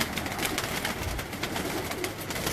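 Flying pigeons in a loft of separated females make steady cooing against a dense, noisy background that runs throughout without pauses, no voices.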